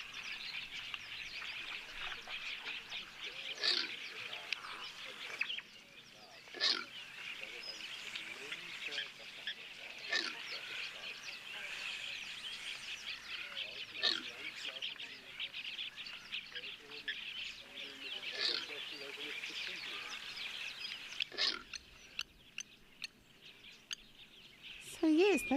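An unusual bird calls repeatedly outdoors, an odd, buzzy chattering voice broken by sharp louder notes over a steady ambient background.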